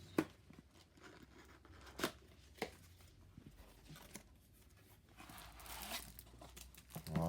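Packaging of the Monumental deluxe edition board game is torn and crinkled open, with a few sharp ripping bursts and softer rustling in between, quiet and close.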